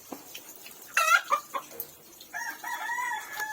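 A rooster crows loudly nearby, followed by softer hen clucks and another drawn-out call; no one speaks.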